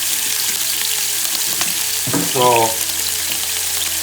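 Salted and peppered oxtail pieces searing in a hot pan for braised oxtail stew, with a steady loud sizzle throughout and a brief louder spatter midway; one short spoken word near the start.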